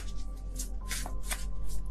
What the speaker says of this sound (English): I don't know what's going on with my shuffling right now